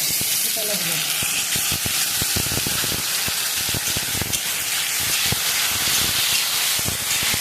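Chopped tomatoes hitting hot oil in a pan with a Rui fish head, giving a steady, close sizzle and hiss with scattered crackling pops throughout.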